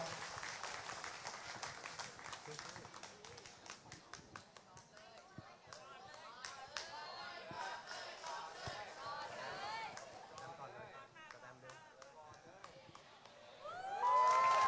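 Audience applause and crowd noise on a beauty pageant stage, a steady wash of clapping and murmuring voices throughout, with speech and cheering mixed in and a louder swell near the end.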